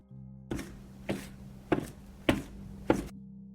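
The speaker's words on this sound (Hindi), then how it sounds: "उसे लगा जैसे कोई धीरे धीरे खिड़की पर दस्तक दे रहा हो" Someone knocks slowly on a window in a sound effect: five separate knocks spaced roughly half a second apart, each sharp and fairly loud, over a low steady hum.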